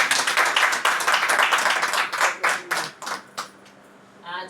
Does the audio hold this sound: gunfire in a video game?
no